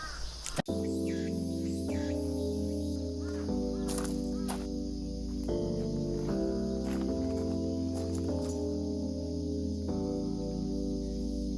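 A crow at a campsite gives a long run of harsh, drawn-out caws that shift in pitch from one call to the next, loud and continuous over an outdoor background with no speech.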